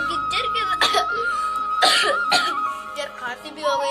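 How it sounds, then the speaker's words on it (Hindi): A man coughing repeatedly in a few harsh bursts, close and loud, with a steady background hum and some voice activity in between. "यार खांसी भी हो गई तुम्हारे भाई को।"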